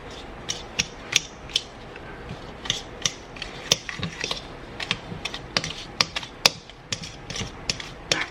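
A fork whisking ingredients by hand in a bowl, heard as quick, irregular clicks and taps against the bowl, close and fairly quiet, with no voices.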